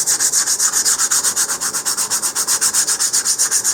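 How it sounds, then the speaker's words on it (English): Steady, rhythmic rasp of sandpaper rubbing back and forth on thick wooden model rocket fins, close up, with about twenty even strokes and no talking. "you can either turn this part or you can turn your wrist with the sanding paper on it"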